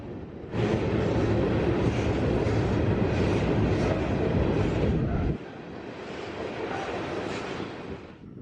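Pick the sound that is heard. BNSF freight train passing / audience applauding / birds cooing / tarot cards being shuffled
BNSF freight train passing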